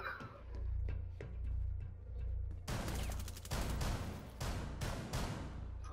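Shotgun blasts in the Rainbow Six Siege video game, a rapid run of sharp, loud reports after a stretch of quieter background, the bursts closely spaced and firing alone without talk.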